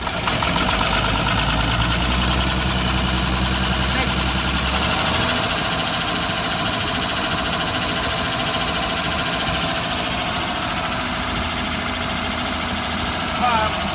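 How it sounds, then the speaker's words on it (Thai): A rebuilt car engine with new pistons and rings idles steadily and loudly nearby, with a constant low rumble and light mechanical knocking and no speech over it. "คันนี้ฟิตเครื่องมาใหม่ หมดบักหลายหมื่นเลย"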